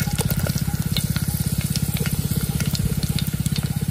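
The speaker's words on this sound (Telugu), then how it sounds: "అల్లం వెల్లుల్లి బాగా ఏగుతున్నాయండి, సౌండ్ చూస్తున్నారు కదా" Ginger and garlic frying in hot oil, a loud, steady sizzle close by, with a rhythmic scraping pulse as the pan is stirred.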